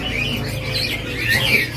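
Birds chirping and warbling continuously, fairly close, with high tweets rising over a steady background hum.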